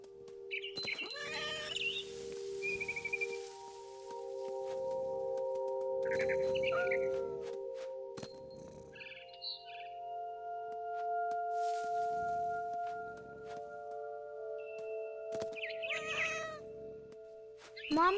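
Cat meowing in the Edith Finch video game, several separate meows and drawn-out cries scattered through the stretch, fairly close, over steady game ambience and music, with brief bird chirps in between.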